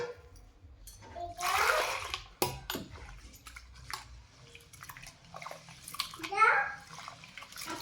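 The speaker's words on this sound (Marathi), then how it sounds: "छान असं मस्त स्वच्छ पाणी निघेपर्यंत धुवून घेते त्याला." Soaked rice and urad dal being washed in water for idli batter, with splashing and pouring bursts in a vessel, a voice and faint talk in the background.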